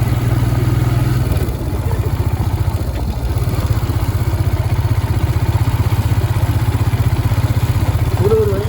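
Royal Enfield Scram 411 motorcycle climbing a damaged hill road toward a hilltop temple, a loud, close, continuous thumping engine note with a steady pulsing rhythm throughout.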